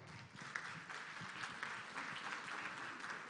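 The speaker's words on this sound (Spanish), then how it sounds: "Vamos a recibir con un fuertísimo aplauso a nuestro siguiente invitado" An audience at a civic cabildo event in Tacna applauds a guest being welcomed, with steady clapping at moderate distance and faint voices mixed in beneath it.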